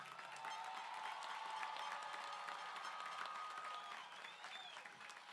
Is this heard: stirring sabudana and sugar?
no